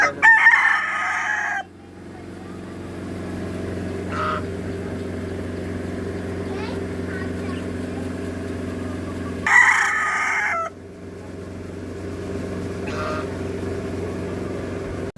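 A rooster crows loudly twice, well apart, each call long and strained, with a steady low hum and faint clucks in between, at a rural paddy market.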